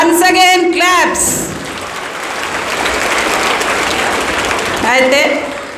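Schoolchildren give a round of clapping for a teacher, a steady wash of many hands lasting several seconds, framed by someone speaking before and after it.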